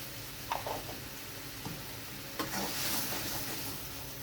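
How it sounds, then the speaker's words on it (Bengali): Gravy with turmeric and salt bubbling in a pan, a steady low sizzle broken by a few light clinks and scrapes of stirring, close and quiet, with no talking. "গ্রেভিটা ফুটে গেছে"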